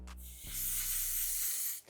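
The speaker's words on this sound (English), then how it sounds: "spray on my beauty sponge, and just press to seal in the makeup for all day wear." Superstay setting spray mists onto a beauty sponge in one steady, close hiss lasting over a second, preceded by a soft click and short rustle.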